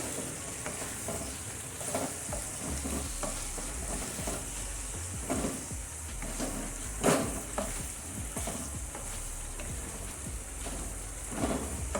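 Cowpea pod and potato vegetable curry stirred in a frying pan, with a continuous close sizzle and frying crackle broken by scraping stirring strokes throughout.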